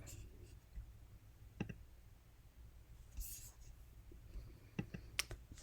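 Several sharp, faint mouse clicks on a computer, spaced irregularly over a quiet background hum, with no speech.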